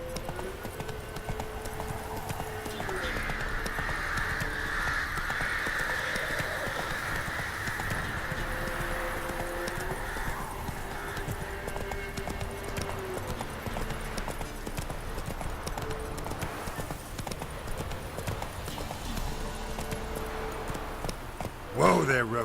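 Roach the horse in The Witcher 3 gallops with steady rhythmic hoofbeats and a soft jangle of tack over a continuous game soundscape, and a voice speaks over it.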